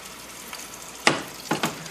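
A test scoop of low-carb bacon donut batter lands in hot frying oil, giving a faint steady sizzle broken by a few short crackling spurts.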